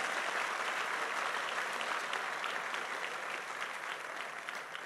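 Congregation applauding at a church service, a dense, steady wash of many hands clapping close by that holds evenly loud throughout with no voices breaking through.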